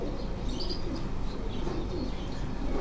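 A pigeon on a Karachi rooftop coos softly and steadily, with faint chirps from other birds over a constant low background hum and no talking.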